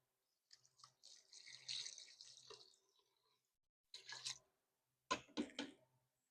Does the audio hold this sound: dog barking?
no